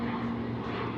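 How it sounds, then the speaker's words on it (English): Seaplane droning overhead above Greenpoint, Brooklyn, a steady propeller-engine hum, moderately loud, over outdoor city ambience. "Ooh, another seaplane, everybody. Look at that. Another seaplane."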